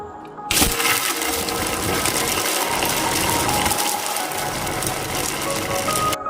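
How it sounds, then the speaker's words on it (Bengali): An electric mixer grinder whirs loudly and steadily as it blends chicken with garlic, ginger, black pepper and chilli paste. The grinding starts abruptly after a brief quiet moment and runs continuously, close up, with no talking. "কয়েক কোয়া রসুন, আদা, 1 চামচ গোলমরিচ, 1 চামচ লঙ্কা বাটা দিয়ে চিকেনটাকে মিক্সিতে পেস্ট করে নেব।"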